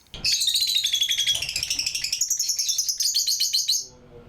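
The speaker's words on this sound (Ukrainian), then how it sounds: "експозиція може потішити відвідувачів співом пташок. Тут є декілька видів ткачиків, папуг нерозлучників, амадин" Weaver birds, lovebirds and finches in an exhibition keep up a dense, nearby stream of rapid high chirps and trills, fairly loud and continuous, then break off abruptly near the end.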